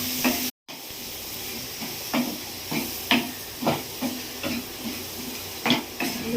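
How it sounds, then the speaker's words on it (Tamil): Tamarind water poured into a pot of sambar cooking on the stove sets off a steady steamy hiss and sizzle, with soft clinks and stirring bursts recurring every second or so. "இப்போ புளி ஊற்றுறாங்க"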